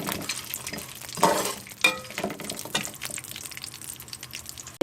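Cashews and dried mulberries fry lightly in a pan with a steady low sizzle, broken by a few stirring scrapes and clatters and one sharper knock near the end.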